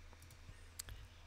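Computer mouse clicks during drafting work in Revit 2024 structural design software, a few faint, quick clicks close to the mic in a quiet room.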